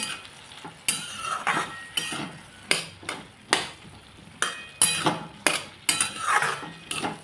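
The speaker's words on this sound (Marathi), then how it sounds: "नमक आणि हळद टाकून या भाजीला छान आपण परतून घेऊ" Chopped ganga fruit (snake gourd) is sautéed in a pan with salt and turmeric, a soft sizzle broken by regular knocks and scrapes of a metal spatula against the pan, close.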